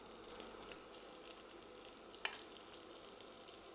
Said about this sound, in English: That's sizzling nicely, so let's place our chicken in.